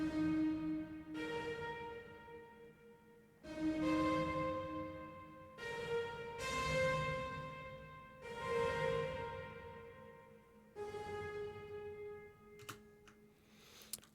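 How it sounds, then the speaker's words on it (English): A Spitfire upright piano run through an amp and reverb plays slow, sustained chords that bloom and linger, soft and washy, ending with a couple of sharp clicks. "it's the Spitfire upright piano."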